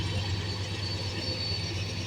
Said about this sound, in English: 41N is a empty grain train from Norfolk, Virginia to the INO in Springfield